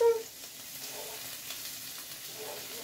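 Shrimp sizzling in a hot wok, a steady soft frying hiss that carries evenly throughout, briefly louder at the very start.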